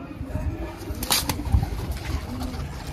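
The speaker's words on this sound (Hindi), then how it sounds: "ये देखो भाई कितने कबूतर हो गए" Green pigeons cooing softly among a small collected flock, a faint low coo heard once or twice through steady background noise.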